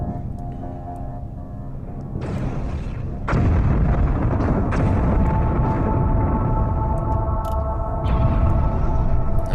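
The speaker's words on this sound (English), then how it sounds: "Now that's a good use of an ion cannon." Ion cannon fire in the space strategy game Homeworld: Cataclysm makes a loud, continuous rumbling barrage that thickens partway through and keeps roaring with layered booming bursts.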